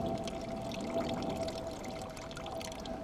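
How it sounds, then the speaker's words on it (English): Water drains out of a Gold Wringer gold concentrator used for prospecting in the desert, a steady splashing pour and trickle heard close up, continuous and without speech. "drain your water"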